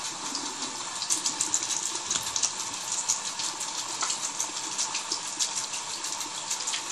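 Tap water runs steadily, splashing over slime as it is wetted for washing, a continuous close hiss with small splatters throughout and no talking.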